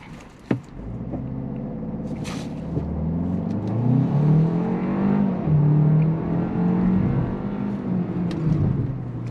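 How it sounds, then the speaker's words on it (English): A 2024 Hyundai Kona N Line accelerating, its engine note heard from inside rising and falling through the gears as a loud, steady drone, with a brief knock near the start. "Acceleration in this thing is quick,"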